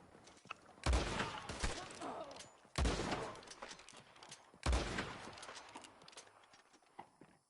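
Gunfire and booming cannon blasts from war wagons in the online Western game Red Dead Online, with three heavy, loud bursts spaced a couple of seconds apart, each trailing into rattling shots and rumble.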